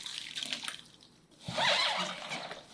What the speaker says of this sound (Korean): 만들어놓은 양념 싹 부어주세요